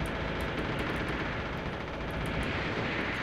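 Dense, continuous turret gunfire from the Defcon video game, a steady roaring rattle that fills the whole stretch at high loudness with no pauses and no talking over it.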